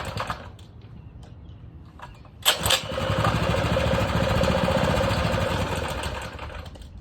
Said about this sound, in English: I've turned this idle screw every way possible, and this thing still won't hold the idle